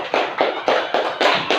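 Audience at a Palangka Raya university classroom presentation clapping hands in a few loud, rhythmic bursts, close and without talk.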